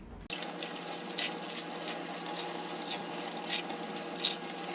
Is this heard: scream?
no